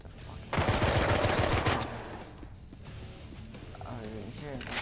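A loud burst of automatic gunfire from the video game Drawn to Death erupts for about a second, then gives way to quieter game sounds while someone talks over it.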